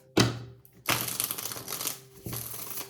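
Tarot cards are shuffled in sharp bursts, three crisp riffling rushes separated by brief pauses, close and moderately quiet.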